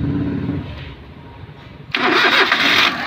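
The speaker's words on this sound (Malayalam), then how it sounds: "വണ്ടി ഒന്ന് സ്റ്റാർട്ട് ചെയ്ത് ഒന്ന് സ്റ്റാർട്ട് ചെയ്തേ" A Maruti 800 car engine cranks and catches near the two-second mark, jumping from a low rumble to a loud, steady running roar that continues to the end, with no talk.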